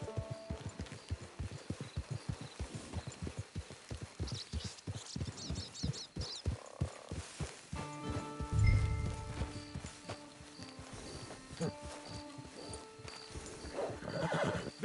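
Horse sounds from the Red Dead Online video game: steady clip-clop hoofbeats through the first half, then a loud whinny and snorting at close range, with more hooves and a faint music bed underneath.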